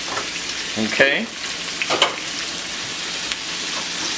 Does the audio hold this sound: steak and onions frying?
yes